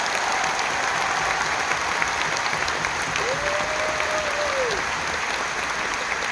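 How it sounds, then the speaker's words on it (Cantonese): Concert audience at a show in Malaysia applauding steadily, a dense even wash of clapping with crowd noise throughout, and a brief tonal whistle-like sweep in the middle. "喺度想借大家嘅掌聲一次，多謝晒我哋負責流行音樂部分嘅老師"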